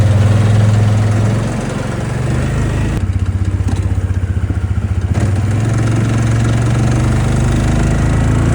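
A Polaris engine on a snowy morning settles into a steady, loud idle, with a low rumbling drone and a brief rhythmic patter midway, and no talk over it.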